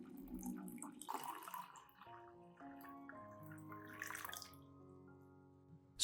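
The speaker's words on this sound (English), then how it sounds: "add 500 milliliters of hot water to the eggshell mixture" Hot water, 500 millilitres, poured into a crushed eggshell mixture, a steady splashing pour that runs for several seconds with a shifting, gurgling pitch as the container fills.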